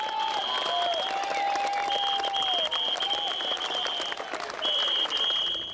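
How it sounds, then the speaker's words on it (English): A crowd applauds a rider's win at a 1993 mountain bike race, with sustained, even clapping and cheering that holds steady for several seconds, along with high whistle-like tones above it. "And to the crowd's delight, Sian repeated her 1990 national win here"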